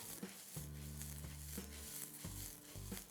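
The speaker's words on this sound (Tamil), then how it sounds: "போட்டுட்டு இந்த சூடில் இந்த மிளகாவும் வர மிளகாவும் நல்லா ரோஸ்ட் ஆகணும்" Dry red chillies roasting in a hot pan, a soft, steady sizzle and crackle with light stirring scrapes, close but quiet, no voices.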